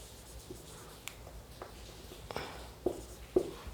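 Pen or marker writing out a maths equation by hand, faint scratchy strokes with a few sharper taps near the end, quiet and close, with no talking.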